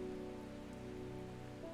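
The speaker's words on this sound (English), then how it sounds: "Oh, it's raining again." Rain falls steadily in the video game Strange Horticulture, a soft, even patter layered over a quiet sustained musical drone, with no talking.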